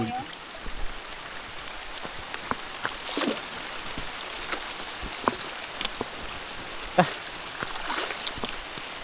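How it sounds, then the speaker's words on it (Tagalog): Steady rain falls throughout, a soft continuous patter with scattered louder drops and splashes, fairly close and without voices. "Ulan na mga lods, ulan na."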